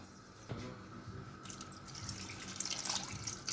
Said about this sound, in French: Je vais rajouter 2 bols d'eau.